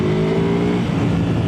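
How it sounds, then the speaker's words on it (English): Ducati Panigale motorcycle engine held at high revs at full throttle, a loud steady drone with strong harmonics that roughens and drops slightly toward the end, close and continuous with no talking. "Change down the gears a bit, get the revs spinning up nicely and pin it."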